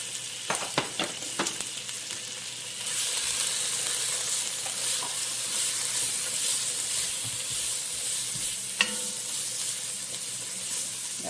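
Onions and garlic sizzling in butter in a pan, a close steady hiss that swells louder after a few quiet seconds, with a few sharp utensil taps near the start.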